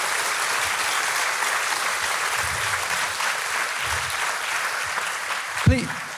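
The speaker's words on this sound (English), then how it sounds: "So could you give me a round of applause for these student leaders?" A large audience at an Otago Medical School Hippocratic Oath ceremony applauds steadily and densely for about six seconds, with voices faintly audible beneath and a brief louder thump near the end.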